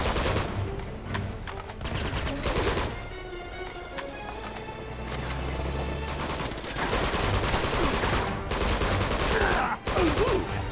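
Gunfire from the Uncharted 2: Among Thieves video game, a near-continuous spread of repeated shots and bursts running the whole stretch, loud and busy, with a low rumble and other game effects mixed in.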